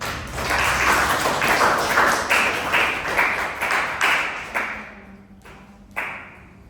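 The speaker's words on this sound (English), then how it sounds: "Now you can clap everyone." A small classroom audience claps after a student group's in-class project presentation, the applause fairly close and steady, then thinning out into a few scattered claps at the end.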